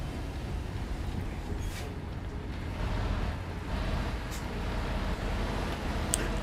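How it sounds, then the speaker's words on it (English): Low, heavy rumble of a 23-ton loaded truck engine heard with the cab windows down in Euro Truck Simulator 2, droning steadily with road noise and faint hiss bursts like air brakes. "I'll run the windows down and hear this truck."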